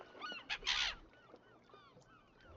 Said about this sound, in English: Another seagull.